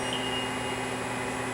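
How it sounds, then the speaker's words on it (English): A steady electronic tone from a March PX-500 plasma etcher signals that the process has finished, holding level and unbroken with a faint hum beneath it. "We have an alarm signal indicating that the process is finished."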